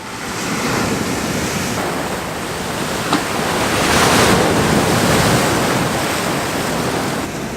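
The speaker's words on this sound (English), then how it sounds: "trying to get those waves breaking" Ocean waves breaking on the shore make a continuous loud, broadband wash that swells and recedes gently, with wind rumble on the microphone and no voices.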